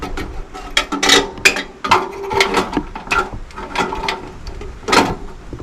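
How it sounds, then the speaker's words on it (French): Someone pumps the fuel tank of a Coleman camping stove with a steady series of close mechanical strokes, each a scraping, clicking push that repeats about every half second. "Il suffit de pomper quelques fois, le mettre en place."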